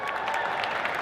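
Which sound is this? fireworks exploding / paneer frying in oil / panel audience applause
panel audience applause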